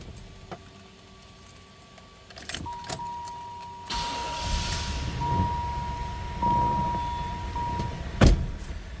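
A 1995 Cadillac Fleetwood Brougham engine cranks and catches, then settles into a steady idle, with a brief jangle of keys and a sharp clunk near the end.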